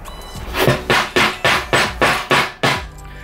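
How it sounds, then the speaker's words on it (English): Seven sharp, evenly spaced hammer taps drive plasterboard drywall anchors into a wall, each hit loud and close with a short ringing decay, no voices. "If they're still a bit tight, you can give them a hit with a hammer."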